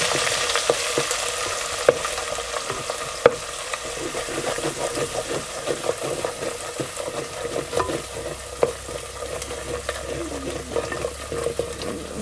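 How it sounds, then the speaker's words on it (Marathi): Masala stirred and fried in hot oil for a village-style spicy chicken rassa curry, a steady close sizzle with repeated scraping strokes of a spoon across the pan, no voices. "आता आपण ह्यामध्ये ना मसाला घालूया चांगला असं आपल्याला ना ह्यामध्ये तेलामध्ये परतून घ्यायचं"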